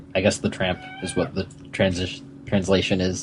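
A pet cat meows several times, each meow close and fairly loud, mixed in with someone talking.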